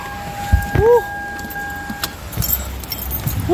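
A car door slams shut with a single solid thud, followed by a short electronic lock chirp and faint rustling, all close by in a quiet spot.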